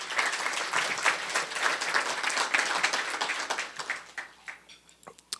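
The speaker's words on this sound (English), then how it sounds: "So let's give them all a round of applause." An audience at a chamber of commerce luncheon applauds, with steady clapping that holds for several seconds before thinning and fading out near the end.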